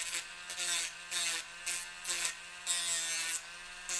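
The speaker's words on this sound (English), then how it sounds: "What we want to do is kind of sand around a little bit." A rotary tool with a sanding bit sanding a metal part while repairing the wings and hip of an S.H. MonsterArts Gigan figure. Close, repeated bursts of abrasive grinding alternate with a steady motor whine.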